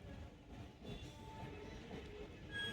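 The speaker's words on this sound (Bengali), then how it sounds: "ট্রেনের কত হর্ন দিচ্ছে দেখ।" A train passes close by with a continuous heavy rumble and rattling wheels that stay loud throughout, with a thin tonal note rising briefly near the end.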